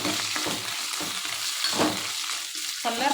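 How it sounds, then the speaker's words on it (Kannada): Red and green capsicum with curry leaves fry in a pan, giving a steady hissing sizzle broken by scraping stirs, close and moderately loud, with no voices. "ಸ್ವಲ್ಪ ಕೆಂಪುಗಾಗಿ ಕೂಡಲೇ ಕ್ಯಾಪ್ಸಿಕಮ್ಮು, ಕರಿಬೇವು ಹಾಕ್ಕೊತಾ ಇದ್ದೀನಿ"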